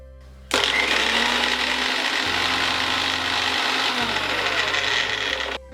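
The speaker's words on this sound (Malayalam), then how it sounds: "ഇനി മിക്സി മൂടി ഇതൊന്ന് നന്നായിട്ട് അരച്ചെടുക്കണം." A small mixer grinder jar runs steadily, grinding garlic for homemade mayonnaise; a loud, continuous motor whir with a gritty grinding edge starts abruptly and holds for about five seconds before cutting off.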